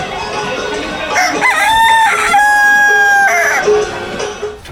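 A country rooster crows loud and close in one long, drawn-out cock-a-doodle-doo, rising and holding before trailing off, heard alone at a seaside beach shack setting.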